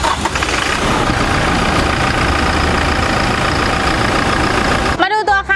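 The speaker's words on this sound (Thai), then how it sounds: "ไปไปฟังเสียงห้องเครื่องกันเลย" A Toyota Hilux Revo 2.4 pickup engine idles steadily and fairly close in the engine bay, a continuous low rumble, with a voice speaking briefly at the end.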